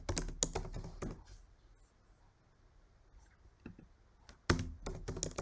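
Quick clusters of keystrokes on a computer keyboard at the start and end, with a quiet pause and a few isolated taps in between, close and fairly soft.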